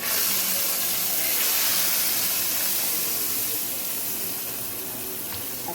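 Hot baghar tempering poured into kadhi, a dense steady sizzle and hiss that fills the whole stretch, loud and close with no talking.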